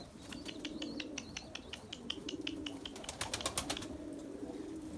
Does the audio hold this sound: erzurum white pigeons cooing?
yes